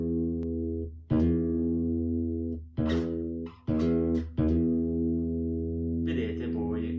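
A bass guitar plays a riff slowly, with sustained low notes plucked at irregular intervals and some sliding between pitches; a brief voice may be heard near the end.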